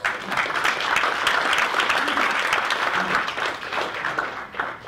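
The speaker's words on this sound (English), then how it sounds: "One more round of applause, please." Audience applause at a talk on agile in large enterprises, a dense, steady round of clapping from a crowd, moderately loud and even throughout.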